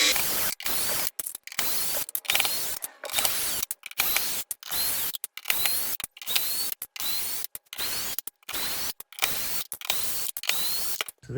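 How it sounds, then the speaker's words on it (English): Screws are backed out of a guitar body with a ratcheting screwdriver, a steady run of rapid clicking bursts broken by short pauses, close and fairly loud with no voices. "let's take the rest of the screws out and see what we've got"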